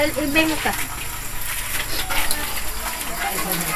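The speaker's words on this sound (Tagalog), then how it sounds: "tuloy-tuloy lang yung aming tubig dito." Water gushes steadily from a tap or pipe beside a traditional clay oven at a rural home, a continuous rushing flow that stays even throughout.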